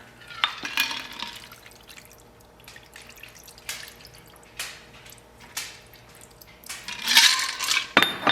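Prosecco is poured over a snowflake-shaped ice cube in a cocktail glass, with light fizzing, dripping and a few sharp clinks of ice and glass, fairly quiet and close.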